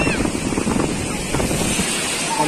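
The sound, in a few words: ocean waves at Nevre beach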